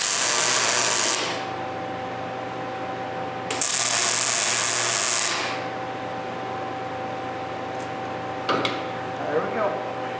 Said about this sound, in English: I can go ahead and put some healthy tack welds in there